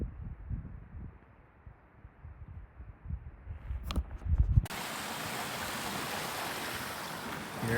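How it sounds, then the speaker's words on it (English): Flowing water near natural springs on a solo backpacking hike, at first a faint distant rush under footsteps, then after a sharp thump turning into a loud, steady broadband rush as the water comes close. "I think I'm near the springs because I hear water."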